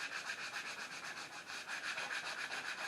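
Small softwood guitar parts are rubbed by hand with sandpaper, producing soft, rhythmic scratchy strokes at an even pace, quiet and close with no voices.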